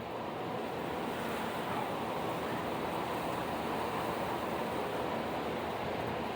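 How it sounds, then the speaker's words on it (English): Steady wind picking up ahead of a hurricane beside Interstate I-75 in Tifton, Georgia, a constant broadband roar that holds at an even level throughout without any talk. "Wind's starting to pick back up."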